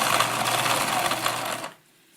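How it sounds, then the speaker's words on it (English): A sewing machine stitches around the fabric of a hedgehog snuggle bag, a loud steady mechanical whirr running continuously for most of the moment before stopping abruptly, leaving near silence. "And then we're going to sew all the way around."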